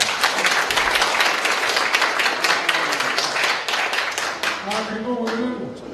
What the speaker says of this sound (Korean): 동의하시면 한번 박수 한번 치세요.